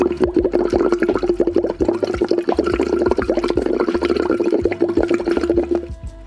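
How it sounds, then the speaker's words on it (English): Bubbles are blown through a Lax Vox tube into water, a rapid stream of bubbling pops carried over a steady hummed tone, loud and close, with short breaks for breath. "breathe in through the nose and blow bubbles, nice smooth flow"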